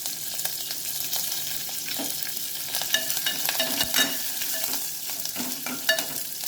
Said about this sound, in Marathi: मी कढीपत्ता टाकते याच्यामध्ये।